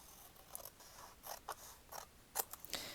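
Scissors snipping paper for a journal, a few faint, quick crisp cuts spread irregularly through a quiet moment.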